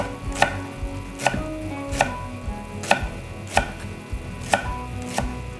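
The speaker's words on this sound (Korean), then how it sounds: "그 다음에 대파 송송 한 1cm 길이로 썰어주세요." A knife slices green onion (daepa) on a cutting board, giving seven crisp evenly spaced chops close up with no talk.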